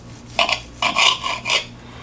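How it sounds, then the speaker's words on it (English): A knife saws through a cooked root beer pork tenderloin in a few short rasping strokes, close and crisp, scraping against the board, with no voices. "So I'm gonna go ahead and cut right here on the corner."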